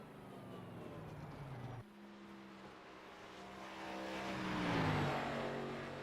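Race car engines in a racing video game at Nashville Superspeedway during an Xfinity Series race: steady whining drones that shift pitch as cars pass, rising toward the end, with no talk.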